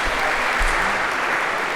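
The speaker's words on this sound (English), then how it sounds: "maybe a round of applause for palm tree on an island if we could" Lecture-hall audience applause in a university computer science class, a steady dense clapping from many people lasting under two seconds, filling the room evenly.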